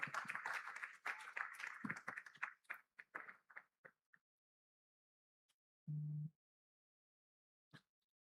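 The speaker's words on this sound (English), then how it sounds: "Please, a round of applause for her as she walks." Audience applause at an African business summit, a burst of clapping that thins into scattered single claps and stops, followed by a short low hum and one last clap.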